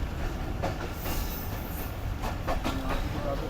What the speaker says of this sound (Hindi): तो ये ट्रेन ट्रैक चेंज करके हमारी प्लेटफॉर्म लाइन यानी लूप लाइन पर आ गई है।